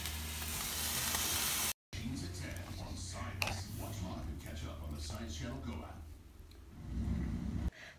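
Food fries in hot oil with a steady sizzle that cuts out briefly and returns, while people talk over it.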